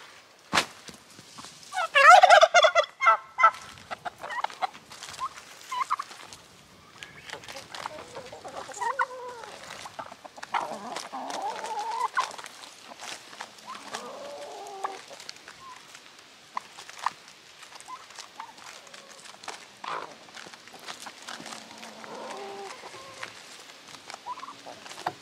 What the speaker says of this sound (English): I'm gonna take it to the chickens then.